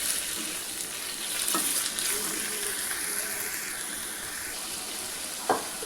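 Minced chicken being stirred and fried in a pan: a continuous close sizzle with scraping from the stirring and one sharp clink near the end.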